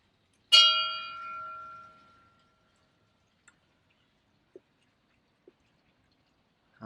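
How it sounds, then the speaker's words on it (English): A single ship's bell on a 1997 Silverton 40 aft cabin motor yacht rings once, clear and bright, and fades slowly into quiet. A few faint ticks and knocks follow. "Love the ship's bells, guys."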